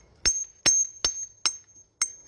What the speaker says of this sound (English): We're gonna take our hammer. We're gonna get us a piece off.